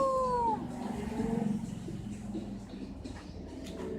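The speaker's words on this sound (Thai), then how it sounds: "แมวเมียวทำไร" A cat meows several times in a drawn-out, falling wail at the start, followed by softer trailing cries over low background rumble and faint household noise.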